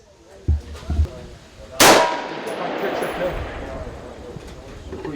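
A single loud rifle shot with a sharp metallic clang rings out at a shooting range, following a bolt being pushed forward and locked, with people talking nearby before the report.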